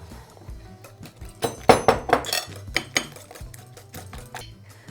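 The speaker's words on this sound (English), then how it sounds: "Mix the bananas into the eggs." Mashed bananas worked into eggs in a bowl, a quick run of close wet clacks and scrapes of a utensil against the bowl, loudest in the middle, with softer stirring before and after.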